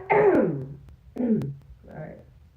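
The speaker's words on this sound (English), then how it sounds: "let me clear my throat" A person clears their throat in three short, rough vocal bursts, each separated by a brief pause, close and fairly loud.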